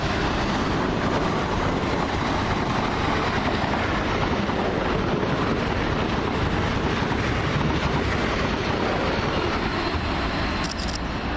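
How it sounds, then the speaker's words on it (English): A class 444 electric unit, 444036, arriving from Weymouth passes nearby with a steady, broad rushing roar and rumble that holds throughout, touched by some wind noise. "Comes the train from Weymouth."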